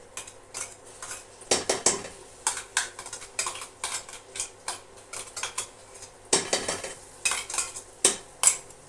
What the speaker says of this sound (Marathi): वाटलेली चटणी आपण पूर्ण याच्यात घालायची आणि छान अशी परतून घ्यायची